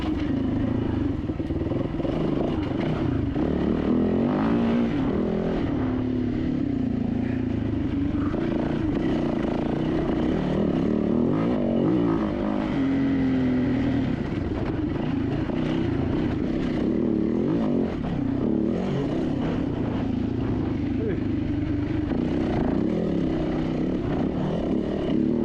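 A dirt bike races a sprint enduro course over rocky terrain and whoops. A steady buzzing engine drone holds throughout, loud and constant, with clattering from the rough ground.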